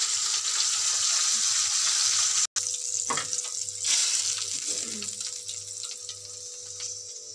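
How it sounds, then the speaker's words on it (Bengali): Bata fish frying in hot oil in a home kitchen gives a steady, close sizzling hiss, broken by a sharp brief cutout and a few faint utensil knocks. "ভাজা হচ্ছে বন্ধুরা মাছগুলো, এখন এতগুলো আর রয়েছে ভাজতে"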